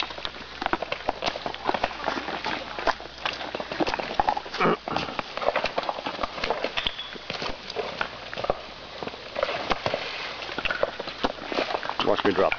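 Horse hooves clip-clop steadily as a horse walks along a trail toward water, close and continuous, with a person talking over them.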